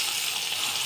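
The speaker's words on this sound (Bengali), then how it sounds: "এখন অল্প তেলে কয়েকটা রসুন দিয়ে দিচ্ছি।" Garlic cloves fry in a little oil for cooking red amaranth greens, a dense, even hiss of sizzling that holds steady throughout the short moment, close and with no talking.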